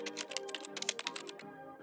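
Quick, uneven keystrokes on a computer keyboard, a dense run of crisp clicks lasting under two seconds, close and fairly quiet, with no voices.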